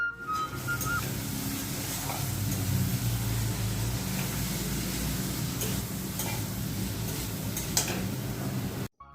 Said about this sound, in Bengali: লঙ্কার গুঁড়ো আর মিট মশলা দিয়ে বেশ ভালোভাবে কষিয়ে নেব আগে মশলাটাকে